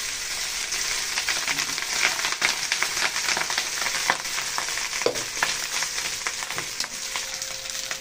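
Leftover rice from the night before fries in a pan for sinangag, giving a steady close sizzle broken by scraping and stirring clicks as it is turned, with no voices.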